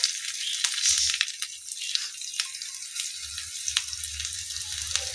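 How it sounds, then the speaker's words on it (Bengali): Chopped garlic, ginger, green chilli and onion hit hot oil in a pan, giving a continuous bright sizzling hiss with small crackles and pops, close and steady throughout. "তেলটা আমার গরম হয়ে গিয়েছে, এবার আমি রসুন কুচি দিয়ে দেব, দিয়ে দেবো আদা কুচি, দিয়ে দেবো কাঁচা লঙ্কা কুচি, আর দিয়ে দেবো পেঁয়াজ"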